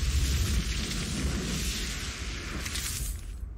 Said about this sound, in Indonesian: Meledak bro.